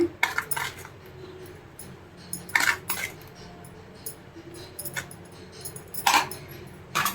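A spoon stirs coriander rasam in a metal pot, giving scattered close clinks and scrapes against the rim in irregular bursts over a quiet background, with no one speaking.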